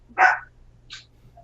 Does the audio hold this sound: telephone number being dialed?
no